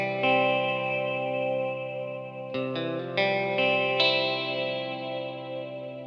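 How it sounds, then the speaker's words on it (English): Electric guitar notes and chords ring out with lush plate reverb from an effects pedal, a few plucked attacks each followed by long, shimmering sustain that slowly fades. "It is just a plate reverb"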